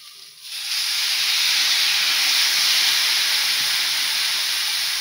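Half a cup of water hits a hot pan of cauliflower filling for samosas (kopir singara), bursting into a loud, steady steaming hiss that rises quickly and holds close and even to the end.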